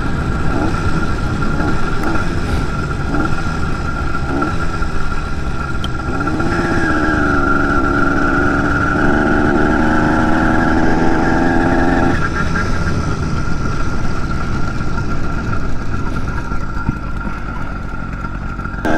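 A BT100 motorized bike engine idles and revs while stopped, a steady buzzing two-stroke drone that rises into a sustained higher-pitched rev for several seconds before settling back to a rough idle, close and loud.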